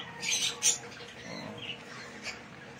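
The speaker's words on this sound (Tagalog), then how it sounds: "Ang daming parisan po rito ng parakit." Parakeets in a breeding aviary give faint chirps and squawks in short bursts against a quiet background hum.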